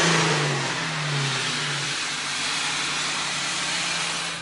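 A Ford Mustang GT with custom throttle body and MagnaFlow exhaust revs loudly and close by, its pitch sweeping down and back up through several pulls in a sustained engine roar with no talking.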